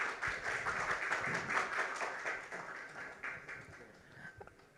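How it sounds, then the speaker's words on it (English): Audience applause after a keynote on global venture capital at a tech conference day, a sustained dense round of clapping from a large hall crowd, fairly even and slowly thinning toward the end. "Let's thank him once again with a warm round of applause."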